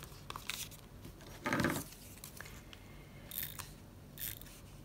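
Scissors trim paper for a scrapbook page in a few quiet, separate snips, close by, including one fuller cut near the middle. Faint rustling comes between them.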